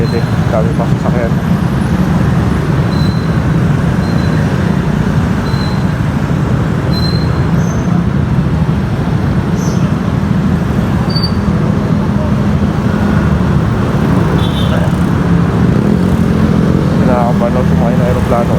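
Dense, heavy road traffic rumbles continuously around a motorbike ride through Metro Manila, with steady loud engine noise and wind, a few faint squeals and horn-like tones, and no clear voices.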